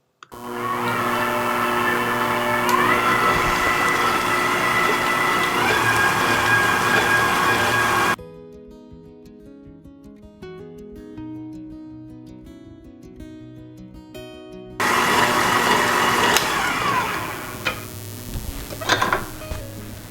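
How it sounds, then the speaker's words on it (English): A stand mixer with a whisk attachment beats wet ingredients at medium-high speed, a loud steady motor whine that cuts out for several seconds, then starts again and runs with some clattering toward the end. "we're gonna attach this to our stand mixer with the whisk attachment, and we're gonna whisk these all together"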